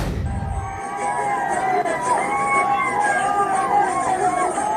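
An excited crowd cheers and shouts in a street in Cuttack as religious flags are raised, a loud, wavering swell of many voices with siren-like rising and falling whoops over a steady hubbub, after a brief low rumble at the start.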